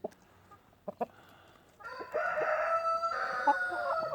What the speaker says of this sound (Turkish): Video çekerken de tavukları böyle gözlemliyoruz arkadaşlar.